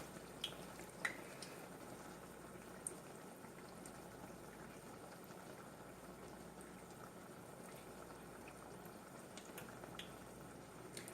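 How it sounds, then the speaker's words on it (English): Puerto Rican-style fritters frying in hot oil: a steady, soft, even bubbling and crackle that continues without a break, with no voices. "I want to let them fry very well."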